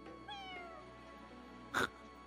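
A cat meows once in the video game Fire Emblem Engage, a short bright call near the end, over a quiet steady electronic background tone.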